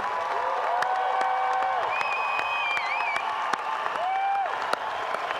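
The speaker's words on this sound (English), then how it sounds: "How about a round of applause for the class of 2018?" Commencement crowd applauding the class of 2018, sustained dense clapping from a large audience with faint cheers and whistles riding over it.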